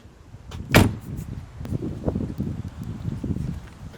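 A car door opens with a single sharp clunk and rattle, close by, followed by soft shuffling and handling noises outdoors near an old Japanese car.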